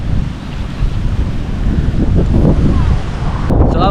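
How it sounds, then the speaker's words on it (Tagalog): Calm sea waves wash gently at Boracay beach, a steady low surf roar with heavy wind buffeting the microphone throughout, and no voices. "Sobrang kalmado lang ng dagat dito."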